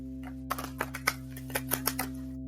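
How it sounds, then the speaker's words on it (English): A Wisdom of Avalon oracle card deck is shuffled by hand, giving a quick run of crisp card clicks and flutters at close range over a faint steady hum, ending in silence. "Let me shuffle and let's see what we get."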